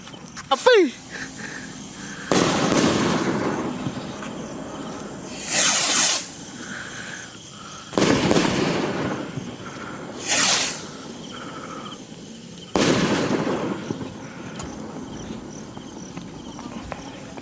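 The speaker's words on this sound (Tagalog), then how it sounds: "8 ounce rocket by Diamond Fireworks" An 8-ounce Diamond Fireworks rocket launches with sharp whooshing hisses, followed by several bursts spaced a few seconds apart, with people talking faintly in the background.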